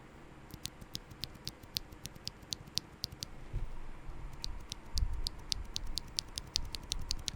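Quiet, sharp clicks from a mechanical keyboard switch modded with a sticker, pressed again and again at a steady pace, over a low rumbling background.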